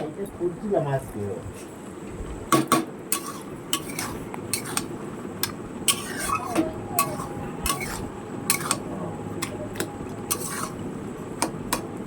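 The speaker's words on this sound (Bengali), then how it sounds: "এবার ভালো করে নাড়াচাড়া দিতে হবে।" A spoon stirs a pot of bottle gourd cooked with fish head curry, giving irregular, fairly close metallic clinks and scrapes against the pot over a low kitchen background.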